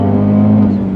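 Fiat 124 Spider Abarth with a big turbo upgrade accelerating hard in second gear uphill, a loud, steady engine drone with strong low harmonics filling the whole second, no talk over it.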